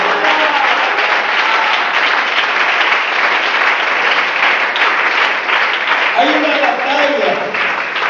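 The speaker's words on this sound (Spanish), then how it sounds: "Den un aplauso al Señor." Church congregation applauding loudly and steadily during a Sunday school service, a dense sustained wash of clapping with voices murmuring and calling out beneath it near the end.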